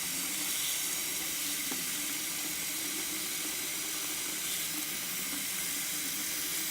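Tap water running into a winemaking bucket as it fills toward the 23 liter mark, a constant broad hissing rush with a low steady undertone, close and continuous for the whole stretch.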